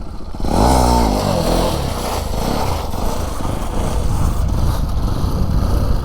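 A motorcycle engine revs hard and steadily during wheelie practice, with throttle pulses rising and falling in pitch, close and loud throughout with a rough clattering edge.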